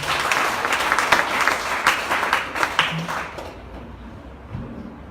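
An audience at a gathering in Uganda claps enthusiastically, a dense burst of applause with sharp individual claps, loud and close, then tapering off to quiet room tone near the end.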